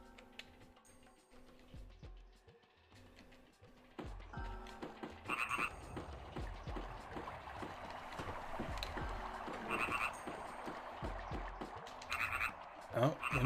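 Frogs croak in the Grandia role-playing game, a run of short, rhythmic game croaks that starts quietly and grows louder and busier after a few seconds, with brighter chirps scattered over a low watery backdrop.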